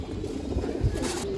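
Black-necked pigeon chicks give soft, close cooing calls, brief and low, over a quiet background.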